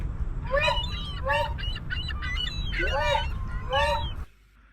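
A voice imitates a seagull with a run of high, wavering cries in quick bursts over a low background hum, ending abruptly.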